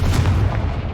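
An explosive Confringo fire spell blast in Hogwarts Legacy, a single loud, deep boom with a heavy low rumble that fills the brief moment.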